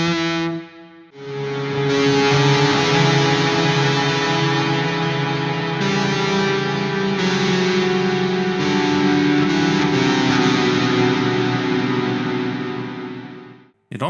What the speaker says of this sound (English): I think that reverb sounds really good.